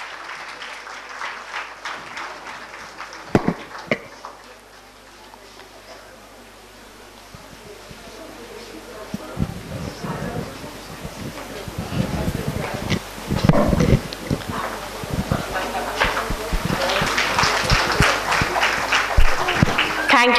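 A school annual function audience of parents claps for the chief guest and guest of honor, the applause swelling unevenly in scattered bursts, with background murmur and a voice beneath it.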